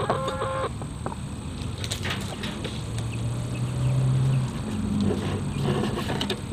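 Meat chickens cluck steadily in a mobile coop, the soft calls overlapping in a continuous farmyard chatter with occasional louder squawks.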